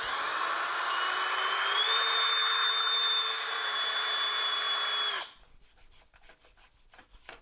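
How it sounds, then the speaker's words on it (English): A wire wheel on a power tool scrubs a Jeep Wrangler LJ brake rotor clean, giving a steady, loud whirring rasp for about five seconds before the tool stops and faint handling clicks follow. "Got our little wire wheel here. We're gonna go ahead and clean up that rotor so we got a good flat mating surface."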